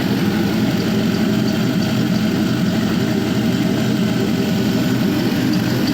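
An LS V8 engine with 799 heads and 116k miles idles steadily while warming up on a cool morning, a loud, continuous rumbling drone with no talk over it.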